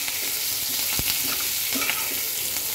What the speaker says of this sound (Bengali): আমি কম জালে কয়েক মিনিট এটাকে সুন্দর করে ভেজে নেব।